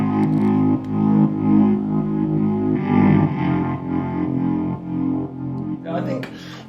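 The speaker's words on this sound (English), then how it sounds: "the whole chorus is essentially built around these two basses that are playing together" Two dirty, distorted basses play together in the chorus of a song, forming a thick, gritty low-end groove that stays fairly steady and loud throughout.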